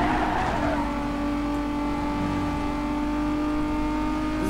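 A Lexus car engine in the video game Need for Speed Most Wanted holds a steady, loud drone at high revs. A faint tire hiss runs under it, with no talking.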